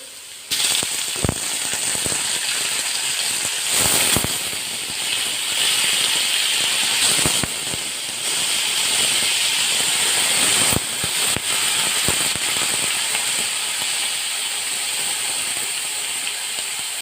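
Chicken pieces dropped onto hot fried onions in a pan, sizzling with a constant bright hiss broken by occasional sharp crackles and spits, close by, with no voices.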